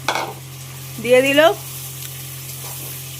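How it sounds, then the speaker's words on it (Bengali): Potatoes go into a pan of frying onions, setting off a short burst of sizzling and stirring beside a brief voice, then a quiet steady fry. "এবারে কষবে তো না, আলুগুলো ভাজা হবে, তাই তো?"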